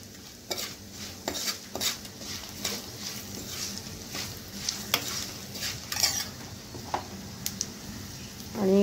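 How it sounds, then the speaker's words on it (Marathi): Asafoetida stirred and sautéed in hot oil in a pan for a crispy poha chivda, a steady soft sizzle with repeated scraping clicks of a spoon against metal, close and clear with no talking. "हिंग घातल्या थोडासा परतवून घेऊया।"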